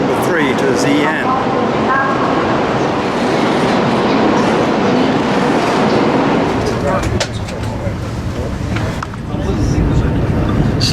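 Passenger train bound for Xi'an in China, a loud steady rumble with rhythmic clickety-clack of carriage wheels over rail joints throughout, with people talking over it.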